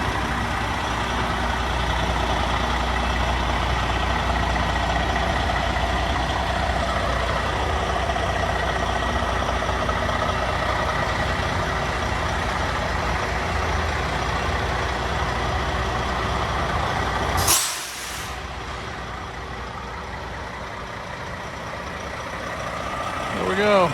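A 2021 black Peterbilt 389 truck idling and creeping while backing into a building, a steady low diesel rumble under occasional talk, with a sudden drop in noise partway through as the engine quiets.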